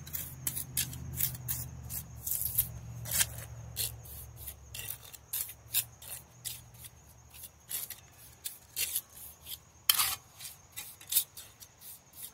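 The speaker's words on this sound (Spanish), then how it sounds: "Agarro mezcla aquí con la cuchara y vengo y por aquí se la reempucho toda" A trowel scrapes and presses mortar grout into a sidewalk joint, making quiet, irregular gritty rasps and taps, soft and close with faint low background rumble.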